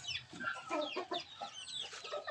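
A gamefowl fighting rooster clucks and chatters close up, a busy, continuous flurry of short, high calls heard alone.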